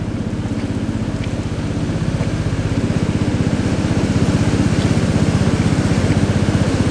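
A boat engine drones on the Da River rapids, a loud close motor with a steady pulsing chug that grows slightly stronger over a rushing water background, no voices.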